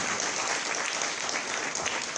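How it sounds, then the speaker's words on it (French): Steady, dense applause from a launch-event audience for the Itel S15 phones in Côte d'Ivoire, loud and continuous throughout with no talk over it. "encore des ovations pour M. Sven Nieuw. On peut l'applaudir encore, s'il vous plaît."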